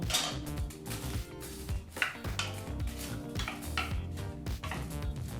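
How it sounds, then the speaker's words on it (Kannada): Onion and tomato fry in oil in a pan on a medium flame for kallu gojju while a utensil stirs, producing soft clinks and scrapes against the pan under steady background music. "ಈ ಪದಾರ್ಥನೆಲ್ಲ ಸರಿಸುಮಾರು ನಾಲ್ಕರಿಂದ ಐದು ನಿಮಿಷ ಮೀಡಿಯಂ ಫ್ಲೇಮ್ನಲ್ಲೇ ಚೆನ್ನಾಗಿ ಹುರ್ಕೋಬೇಕು"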